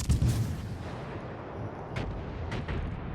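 Naval gunfire from a Japanese cruiser in World of Warships sounds as a muffled, low rumbling background broken by two sharp, crackling reports near the end.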